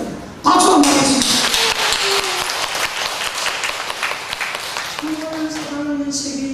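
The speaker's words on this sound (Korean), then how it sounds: "박수 한번 하겠습니다." Church congregation breaks into applause during a Sunday worship service, a sudden burst of many hands clapping that holds steady for several seconds, with voices and a few tonal sounds underneath.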